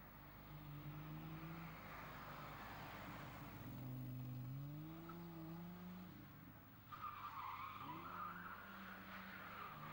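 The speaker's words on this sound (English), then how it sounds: "There you swung the back end round, skid pan fashion." A rear-wheel-drive Italian classic car skids on a skid pan, its tires squealing in long wavering tones while the engine revs and the back end swings round, with a second burst of squeal near the end and no talk.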